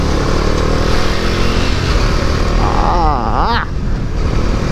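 Xpulse 200 motorcycle overtaking in traffic, with a constant loud roar of engine and rushing wind and a brief sweeping horn-like tone near the end; no talking.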